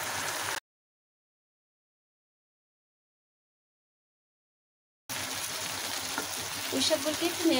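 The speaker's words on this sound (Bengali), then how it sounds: "পুঁই শাকগুলিকে একটু নেড়ে চেড়ে দিচ্ছি।" Malabar spinach (pui shak) being stirred in a pan with fish: a short burst of sizzling and spatula scraping, then a long silent gap, then steady frying hiss with soft stirring scrapes that grows slightly louder toward the end.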